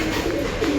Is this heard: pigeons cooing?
yes